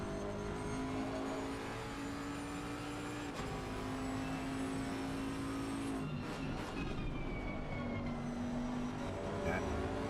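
GT3 race cars lapping the Hungaroring in a racing video game, engines droning steadily with rising and falling pitch across gear changes, a continuous close motor tone with faint speech mixed underneath.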